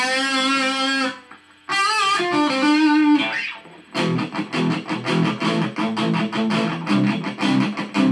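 An Agile AD-2500 electric guitar played through a small amp on its single distortion setting gives a couple of sustained distorted chords, then a fast, loud run of chugging strummed chords.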